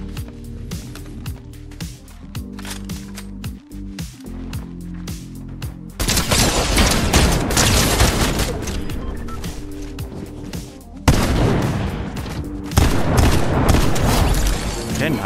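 Fortnite gunfire erupts in dense bursts, loud rapid shots crackling over a constant game soundscape, intensifying into heavy sustained volleys in the second half with sharp transient spikes.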